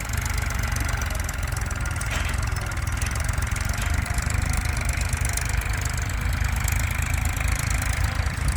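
Farm tractor engine idling steadily nearby, a continuous low rumbling chug with even rhythm throughout and no talk.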